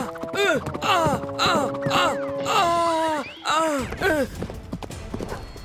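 Cartoon horse galloping in a race, rapid clip-clop hooves running under lively animated voices, with whooshing, springy effects and a brief whinny-like cry.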